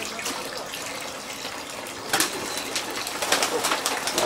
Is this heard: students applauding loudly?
no